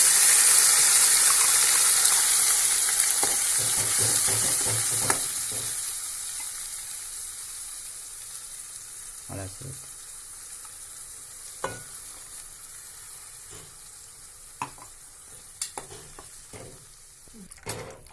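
Ground masala tipped into a pan and fried for thuthuvalai rasam, a loud hiss and sizzle that slowly fades, with scattered clinks and scrapes of a spoon stirring through it.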